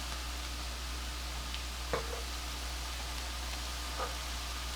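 Manchow soup ingredients sauté in a pan with a constant soft sizzle over a low hum, broken by an occasional light clink or stir, and no talking.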